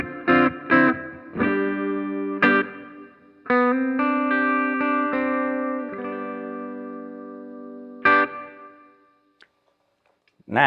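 Semi-hollow electric guitar on the bridge pickup with a boost engaged plays a few sharp strums, then sustained ringing chords and single notes, ending in near silence.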